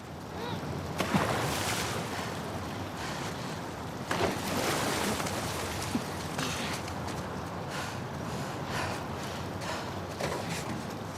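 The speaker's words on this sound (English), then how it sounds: "the player was faced with a fast-flowing torrent of water they couldn't cross" Fast-flowing torrent of water rushing through a sewer in The Last of Us Part II, a continuous loud roar with a few sharp knocks and splashes, and a voice talking over it.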